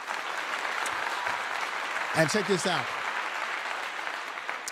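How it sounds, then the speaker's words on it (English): Steady, even applause, like a crowd sound effect on a sports-talk livestream, runs throughout at moderate loudness while someone speaks briefly over it. "Let me give you a clap."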